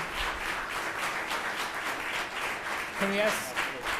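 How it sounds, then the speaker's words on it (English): An audience clapping at a city council and authority meeting, a steady broadband patter of many hands that carries on throughout, with a voice briefly heard near the end. "I didn't hear you, you're still clapping."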